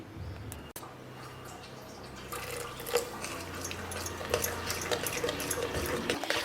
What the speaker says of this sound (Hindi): थोड़ा सा पानी अभी इसमें और डालेंगे